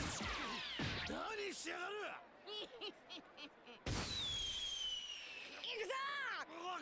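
Fireworks in a One Piece anime episode crackle and burst in quick sharp pops, mixed with loud shouting and whoops from anime characters, with a person talking over the scene.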